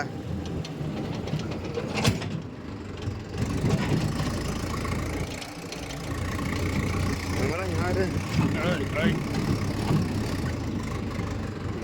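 A Mahindra Yuva Tech+ 585 tractor engine runs steadily throughout, a low rumbling drone close by with brief rises in intensity, while someone talks over it.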